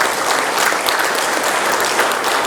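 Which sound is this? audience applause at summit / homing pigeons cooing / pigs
audience applause at summit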